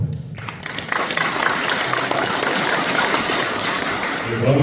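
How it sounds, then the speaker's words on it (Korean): Sustained audience applause at a Korean Liberation Day 80th anniversary ceremony, a steady dense wash of clapping lasting throughout, fairly loud and continuous with no clear pauses. "다시 한번 박수 부탁드립니다"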